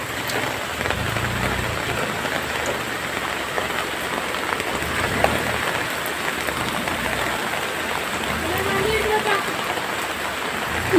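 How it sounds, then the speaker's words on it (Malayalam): Heavy, continuous rain pours down and drums steadily on surfaces in a dense, loud hiss. Faint voices may sit low beneath it. "നല്ല മഴയാണ് കേട്ടോ ഗൈസ് തോരാതെ മഴ പെയ്യുന്നത്"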